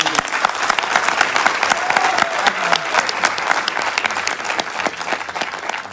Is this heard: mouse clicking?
no